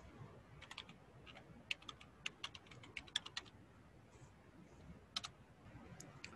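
Fingers type on a computer keyboard, quiet scattered key clicks in short irregular bursts, close and faint, with no voices.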